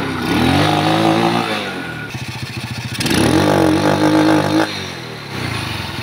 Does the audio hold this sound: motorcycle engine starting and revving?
yes